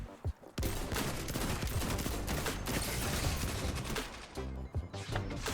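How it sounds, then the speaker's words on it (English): Rapid, loud hand cannon gunfire from a Void 3.0 Warlock in the Destiny video game, with dense overlapping shots and explosive bursts that run nearly continuously, pausing briefly before the firing resumes. "we're gonna get the hand cannon out"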